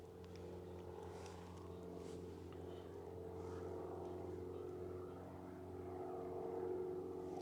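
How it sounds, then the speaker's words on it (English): Distant airplanes drone steadily overhead outdoors, a low continuous rumble that swells slightly toward the end, with no other distinct sounds. "Planes are the biggest noise pollution."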